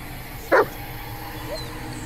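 A dog in the horror video game Blair Witch gives a single short, sharp bark over a low ambient drone, followed by a faint whimper-like sound.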